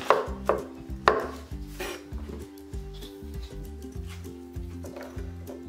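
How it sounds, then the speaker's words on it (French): Ground meat being chopped into small pieces for a meat stuffing, knife strikes landing on a cutting board in an irregular rhythm, a few sharp louder chops at the start, then steadier softer ones under quiet background music. "On va juste les couper encore un peu plus en petits morceaux pour s'adhérer facilement à notre farce"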